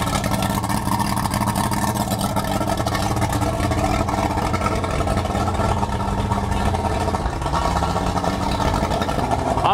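A Yamaha OX66 outboard motor runs steadily after a lift pump delete, a loud, continuous close-up engine drone with an even buzzing rumble and no change in pace, no talk.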